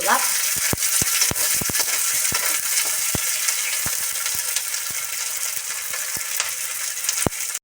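Onions frying in a pan for spinach thoran, a loud, close sizzle with repeated sharp clicks of a spoon stirring against the pan, no talk.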